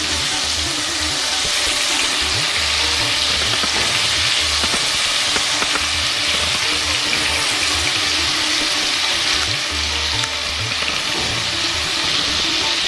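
Prawns coated with a pinch of salt and turmeric fry in a pan for a Bengali jackfruit-and-prawn dish: a continuous, even sizzle and crackle with faint stirring, loud and steady with no voices.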